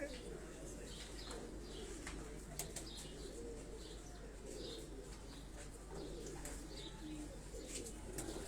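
Original-line Lahore fancy pigeons cooing softly in a loft, faint throaty coos repeating over a steady low hum, with occasional light wing flaps and distant quiet voices in the background.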